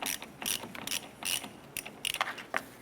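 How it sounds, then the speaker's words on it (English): A ratchet with a 13mm socket works a ground terminal nut loose on a 1993-1997 Ford Ranger, giving quiet, close clicking bursts in short irregular runs. "Using a 13mm socket, go ahead and remove our ground terminal nut here"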